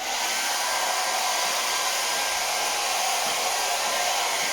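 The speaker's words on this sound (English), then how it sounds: "So you want to use it on the lowest setting that you have. And let's dry our canvas." A hair dryer on its lowest setting blows a steady, even whoosh of air across a painted canvas, continuous and close with no other sounds.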